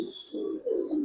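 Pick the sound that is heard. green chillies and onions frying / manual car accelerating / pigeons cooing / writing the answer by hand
pigeons cooing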